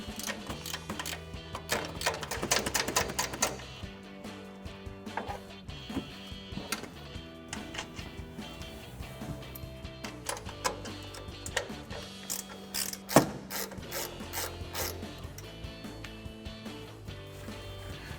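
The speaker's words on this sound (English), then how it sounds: "So we'll take a 14mm ratcheting wrench to do so" A 14mm ratcheting wrench backs the nuts off the top of a pickup's strut tower during a front leveling kit install, with rapid clicking in bursts and short pauses, close and fairly quiet, no talking.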